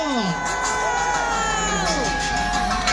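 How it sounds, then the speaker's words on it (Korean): A large crowd at an outdoor political rally in front of the Seoul Central District Court cheers and shouts loudly and continuously, with overlapping voices and whoops filling the space. "큰 박수 보내주시기 바랍니다."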